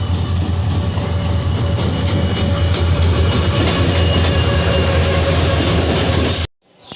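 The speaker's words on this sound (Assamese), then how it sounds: "আমি যোৱা ট্ৰেইনখন আহি আছে" A passenger train arrives at a station with a loud, continuous rumble of wheels and carriages, faint squealing and clatter, close and steady until it cuts off abruptly near the end.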